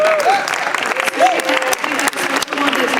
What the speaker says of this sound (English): So applaud for Calliope